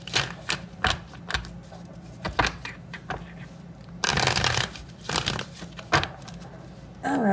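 Crisp riffling bursts of a tarot card deck being shuffled, several quick shuffles close by with short pauses between them.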